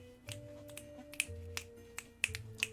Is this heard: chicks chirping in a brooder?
no